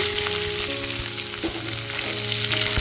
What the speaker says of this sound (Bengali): চলো পেঁয়াজটা একটু ভেজে নিই।